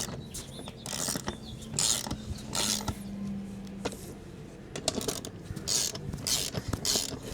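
A ratchet with a 9/16 inch socket tightens nuts holding tow flaps on a Ford F350 pickup, giving repeated close clicking bursts in an uneven rhythm with light creaks between strokes.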